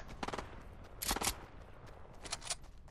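Bursts of automatic gunfire from Fortnite, three rapid volleys spaced about a second apart, crisp and moderately close with no speech over them.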